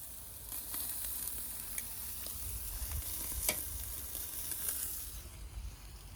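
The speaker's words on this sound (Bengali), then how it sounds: "এদিকে চলছে গ্রিল, এদিকে রয়েছে চিকেন, এদিকে রয়েছে রেড মিট, এদিকে আলু, চিজ, আর এখন মাশরুম যাচ্ছে" Chicken, red meat, potatoes, cheese and mushrooms sizzle steadily on a garden grill. A close, continuous frying hiss is dotted with small pops and crackles, and no one speaks.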